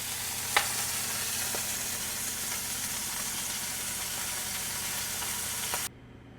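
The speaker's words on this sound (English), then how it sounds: "So we're going to get this searing" Beef searing in a hot pan for Chicago-style beef sandwiches, giving a steady, loud broadband sizzle throughout with a few sharp pops and crackles, cutting off abruptly near the end.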